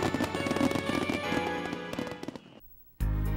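Fireworks burst at a festival on Wakato Bridge in Kitakyushu, including a 400-metre Niagara-style cascade, heard as dense rapid crackling pops that fade before a sudden loud sound at the end.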